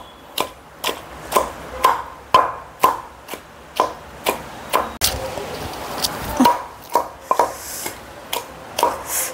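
Roti pachadi chutney pounded by hand with a pestle in a stone mortar: steady thuds with a knock on each stroke, about one a second, close and loud, with a short break midway.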